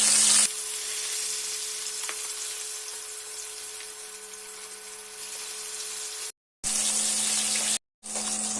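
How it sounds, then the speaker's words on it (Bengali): Bhola fish coated in salt and turmeric fry in hot oil in a wok, giving a steady, close crackling sizzle that runs on evenly, interrupted by two brief cuts. "মাছগুলোকে এপিট ওপিট করে ভালো করে ভেজে নেব।"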